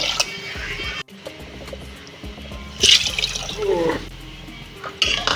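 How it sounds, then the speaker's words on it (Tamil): Water is poured into a bowl in a home kitchen while making semolina (rava) payasam. Near, splashing pours come in short bursts against a low background, with the strongest gush partway through and another near the end. "ஸோ இந்த பவுலில் வந்து நான் 3 கப் வாட்டர் வந்து யூஸ் பண்ணிக்கிறேன்."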